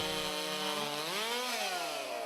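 A medium chainsaw roars at full throttle in a women's timed log-cutting race at a state fair, the engine pitch sagging and then climbing again as the chain bites through the wood, loud and close with no voices.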